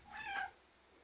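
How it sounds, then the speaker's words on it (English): A cat gives a single clear meow, close by and fairly loud, rising and then falling over about a third of a second before fading into quiet room tone. "Bloody cats, they got no respect."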